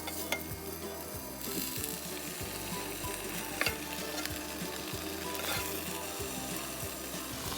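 Burger patties sizzle on a skillet indoors in a steady, close frying hiss, with occasional spatula scrapes and light clicks over it and no talking.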